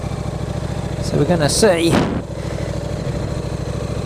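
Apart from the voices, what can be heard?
KTM RC8 motorcycle engine on test ride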